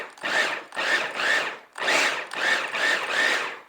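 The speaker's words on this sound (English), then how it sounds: "I'm going to just put my lid on my food processor and I'm going to pulse it" Food processor pulsing a chickpea tuna-style salad with nori, seven loud whirring bursts in quick succession, each about half a second long with brief gaps between, close and alone.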